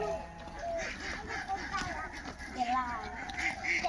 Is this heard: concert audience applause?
no